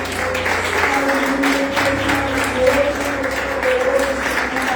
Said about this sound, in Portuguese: Dê um aplauso bem gostoso a Ele.